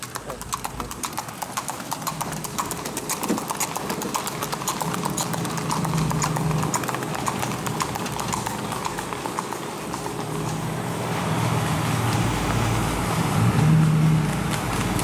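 Horse hooves clip-clop in a steady singlefooting rhythm on a country road in summer, continuous and fairly close, with a car engine passing faintly underneath.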